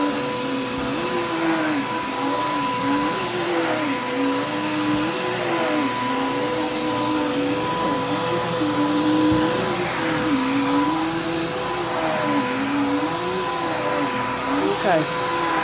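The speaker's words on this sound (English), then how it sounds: "I'm just comfortable while I'm vacuuming and trying to make sure I get all the trash off the carpet." Vacuum cleaner running over living-room carpet, a loud steady whine with a wavering motor pitch as it is pushed back and forth, and a person talking faintly beneath it.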